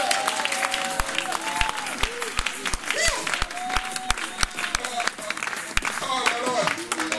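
A church congregation claps steadily to acclaim the Lord, sharp rhythmic claps at about two or three per second, under a preacher's voice and crowd murmur.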